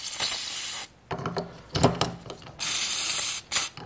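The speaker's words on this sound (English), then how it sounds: "This is a carburetor cleaner." Carburetor cleaner is sprayed in short, close, loud hissing bursts onto the fuel injector tips of a Toyota Prius 2ZR hybrid engine, with brief gaps between sprays.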